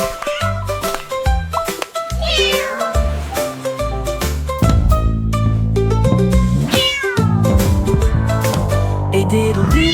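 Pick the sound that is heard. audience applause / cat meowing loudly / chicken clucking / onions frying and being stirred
cat meowing loudly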